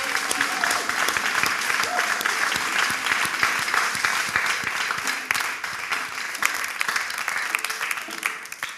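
A large audience at a gospel choir live show applauds and cheers to acclaim the Lord, a dense, steady wash of clapping that holds loud and close for the whole stretch.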